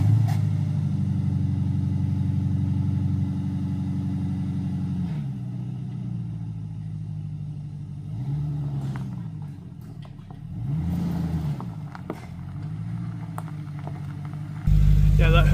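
An old Ford engine with its mufflers cut off runs at a low, steady rumble, then rises and falls in several slow revs before settling; someone talks over parts of it.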